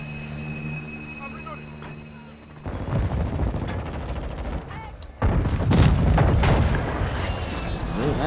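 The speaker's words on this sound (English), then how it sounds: "Friendly airstrike in the AO." Heavy booms and blasts from a friendly airstrike in a military first-person shooter, arriving in loud bursts over continuous battle noise, with in-game voices calling out in the background.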